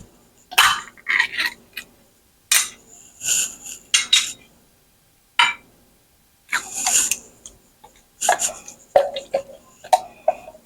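Cherries tipped into a pan for heating make a series of sharp, clattering bursts of fruit and metal knocking, separated by short silent gaps.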